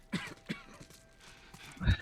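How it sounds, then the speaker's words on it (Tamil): Horse hooves clip-clopping in the video game The Last of Us, a few spaced hoof thuds close by followed by a heavier snort or stamp at the end. "விசிலடிச்சு குதிரையை கூப்பிடுங்களாம்ப்பா"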